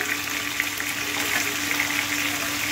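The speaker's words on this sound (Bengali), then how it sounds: "এদিকে মাছ ভাজা হচ্ছে" Steady crackling sizzle of pabda fish frying in hot oil, continuous and fairly loud, with no talking.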